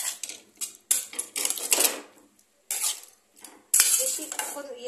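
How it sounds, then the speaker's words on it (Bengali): Kasuri methi being stirred into a dry potato curry, heard as irregular bursts of a metal spoon scraping and clinking against the pan, with short quiet gaps between the strokes and no talk. "কসুরি মেথিটা দিয়ে আমি এটাকে একটু ভালো করে নাড়িয়ে"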